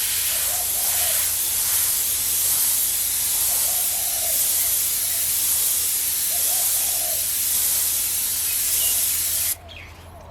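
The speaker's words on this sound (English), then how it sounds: "Maybe I'll airbrush upside down just so you can see what I'm doing here." An airbrush sprays paint onto a portrait in a loud, continuous close hiss with faint small tones over it, cutting off abruptly near the end.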